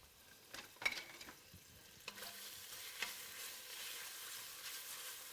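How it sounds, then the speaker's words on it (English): Bacon pieces crisp in a pan while being stirred, a soft steady sizzle broken by scraping utensil strokes and a few light clicks, fairly quiet and without talk. "give that bacon a little stir and let that, well, that's getting crispy"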